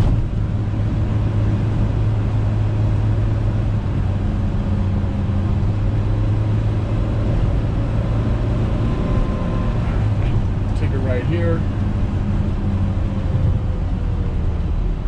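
A 1974 BMW 2002 droning steadily in third gear as it rolls over railroad tracks, with a constant low engine and road hum heard from inside the cabin, a brief bump-like disturbance near the end, and a voice speaking over it.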